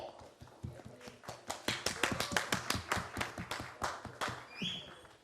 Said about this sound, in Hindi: एक बार जोरदार तालियां हो जाए for the very beautiful रीम Sameer Sheikh